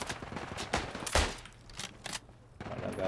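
Gunshots in Isonzo, a World War 1 mountain warfare game, crack out as scattered sharp reports of varying loudness, some near and some distant, spaced irregularly across a few seconds.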